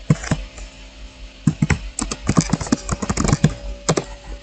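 Keys clatter on a computer keyboard as a short terminal command is typed, irregular clusters of sharp clicks close to the microphone, ending with a firmer keystroke, alone with no voice.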